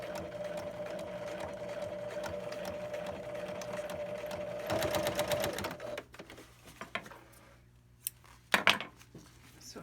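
A sewing machine runs a steady stay stitch along a cargo pocket in line with a half-inch hem, humming continuously for several seconds before stopping, followed by brief handling clicks and rustles nearby.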